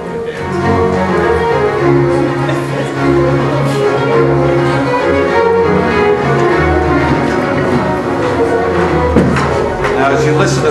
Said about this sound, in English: We're going to start with a little bit of Bach.